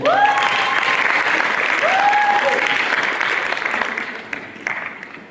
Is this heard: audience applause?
yes